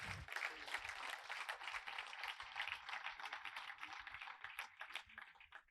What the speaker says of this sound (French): Il s'agit d'Anthony Foccia qu'on peut applaudir.